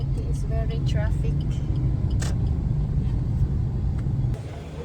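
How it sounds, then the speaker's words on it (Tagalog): Road traffic in Dumaguete: a steady low rumble of passing cars and vehicles with occasional horn-like tones and clatter, moderately near, continuous throughout. "Dumaguete is very traffic."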